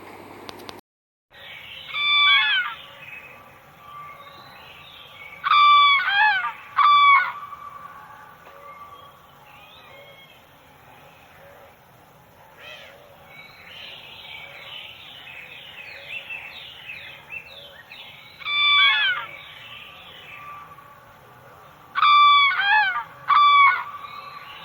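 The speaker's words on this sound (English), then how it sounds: "Number 10. Crane." Crane calls ring out in loud bursts of several honking, trumpeting notes, repeated in a few groups over a steady low background with quieter bird sounds between.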